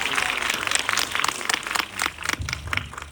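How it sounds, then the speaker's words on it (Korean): Audience applause at a film guest-visit screening in Busan, with a steady wash of clapping that rises and falls across the whole stretch, fairly close and with no voices over it. "박수 부탁드립니다."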